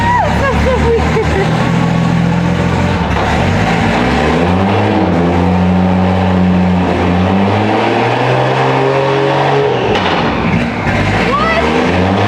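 A car engine with a newly installed dog box transmission revs hard and loud, rising and falling in sweeping pitch changes over a sustained roar, with a voice talking underneath.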